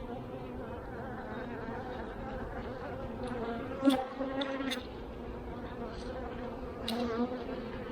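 Honey bees swarm around an opened quadruple deep nuc hive that is ready to swarm, with alarm pheromone running high, making a steady, close, continuous buzz that swells briefly as individual bees fly past.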